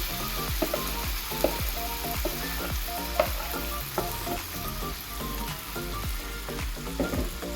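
Mustard seeds and fenugreek tempering in hot oil for mango pickle: a continuous close sizzle studded with sharp popping crackles as the seeds burst, with no talk.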